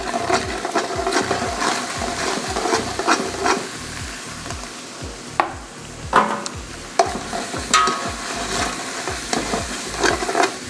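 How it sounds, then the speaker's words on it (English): Vegetables saute in olive oil over browned meat for a Texas-style chili, a close crackling sizzle broken by rhythmic stirring scrapes and a few louder knocks, with no speech. "We've got the vegetables in the chili, and they're going to sit there and saute for about 1 to 2 minutes"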